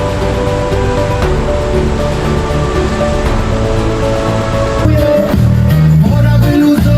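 Open-ocean waves in the Gulf Stream wash and churn around a boat in a loud, continuous broadband roar that surges a little stronger toward the end, with no talk.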